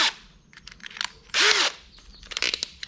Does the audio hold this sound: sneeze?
no